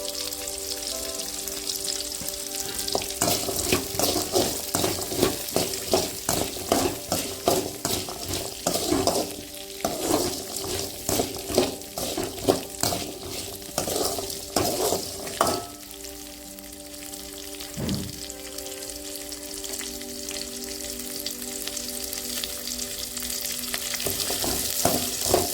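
Garlic cloves fry in a pan alongside onions for guava chutney, a continuous crackling sizzle broken by repeated clattering stirs of a spoon against the pan, close up, with a steady background hum and no speech.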